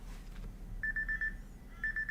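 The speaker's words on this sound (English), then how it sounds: "That's my alarm." An alarm beeps in quick bursts of four or five short, even electronic tones, with a pause between the bursts, heard over a low hum.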